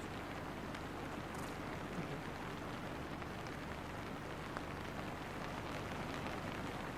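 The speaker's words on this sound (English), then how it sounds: "now the rain has become incessant" Incessant rain falls on a golf course, a soft, steady hiss of drops heard from a distance with no break in the wash of noise.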